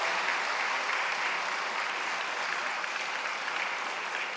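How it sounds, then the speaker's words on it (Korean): Church congregation applauding during a Sunday service, a dense, even roar of many hands clapping without pause, moderately loud and uniform throughout. "크게 박수 쳐주세요"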